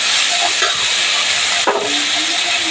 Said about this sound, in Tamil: கொஞ்சமாக இஞ்சி பூண்டு பேஸ்ட்டு அதையும் சேர்த்து நல்லா வதக்கிக்கலாம்